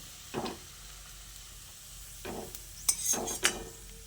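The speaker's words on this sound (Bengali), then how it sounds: "এবার এই বেরেস্তাগুলোকে তেল থেকে তুলে নিচ্ছি" Fried onions (beresta) are lifted out of hot oil over a low-to-medium gas flame, giving a soft steady sizzle broken by a few scraping lifts and light metallic clinks of a spoon against the pan.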